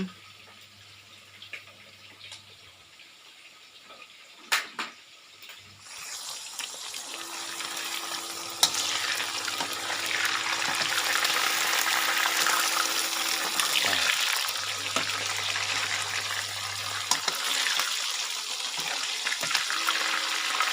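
Marinated, sun-dried Thai pork frying in hot oil: a steady, close broadband sizzle rises after a few quiet seconds with a faint low hum, then hisses on with small pops and crackles.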